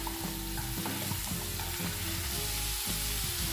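Steady sizzling of pumpkin frying in a pan, with scraping and clinks of stirring throughout, no voices.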